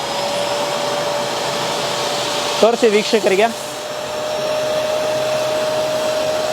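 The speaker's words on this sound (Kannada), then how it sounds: "ನಮ್ಮ ವ್ಯಾಕ್ಯೂಮ್ ಕ್ಲೀನರು." A vacuum cleaner runs steadily and loudly up close, sucking spilled coloured water off a sofa, with a brief burst of talking partway through over the constant whine.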